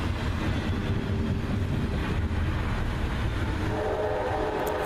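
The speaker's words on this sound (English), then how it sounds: "heading west is this 17J garbage train" Westbound 17J garbage freight train passing through Union, New Jersey in snow, a steady loud rumble of rolling cars with rail noise and a brief horn, continuous and close throughout.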